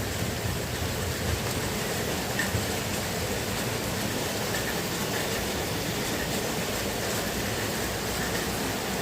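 Steady rain falls on a rural plot in a continuous dense hiss, unbroken and even throughout with no voices.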